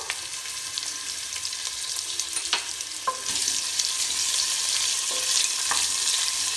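Sliced onion and green chillies frying with whole garam masala for rajma pulao, a dense hiss of sizzling oil with occasional stirring clinks, close up, growing louder halfway and with no voices.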